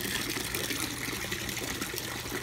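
Water steadily draining from a bucket down into an aquarium sump in an under-sump tank setup, a continuous close gushing, trickling wash with no pauses and no talk.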